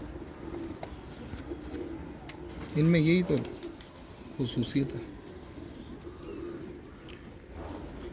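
Pigeons coo in two short bursts from a loft of highflying fancy pigeons, heard close by amid steady background noise, with someone talking over them.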